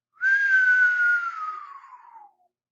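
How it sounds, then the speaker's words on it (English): Falling bomb whistle effect, a single clean tone that slides slowly downward in pitch for about two seconds before trailing off, alone and fairly loud. "Most of you are familiar with the sound effect that a bomb makes when it's falling."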